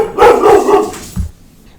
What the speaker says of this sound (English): my dog kind of went crazy